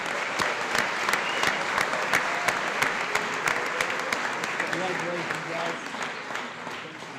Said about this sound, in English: Let's have one more round of applause for the Students of Action